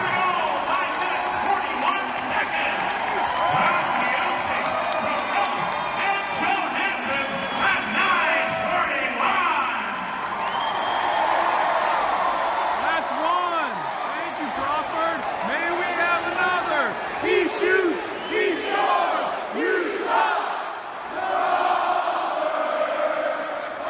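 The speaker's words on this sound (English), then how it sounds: "someone in the stands is recording what the crowd is chanting" A hockey arena crowd chants at Chicago Blackhawks goalie Crawford after a goal, a rhythmic mass of voices and cheers recorded from the stands, with talk over it.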